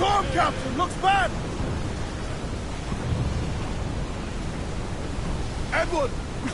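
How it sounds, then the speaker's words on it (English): A storm at sea in the video game Assassin's Creed IV sends up a steady, heavy roar of rain and rumbling thunder, with brief shouted voices near the start and end. "Storm, Captain! Looks bad!"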